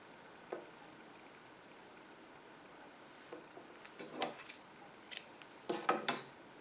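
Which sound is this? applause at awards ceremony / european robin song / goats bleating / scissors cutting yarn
scissors cutting yarn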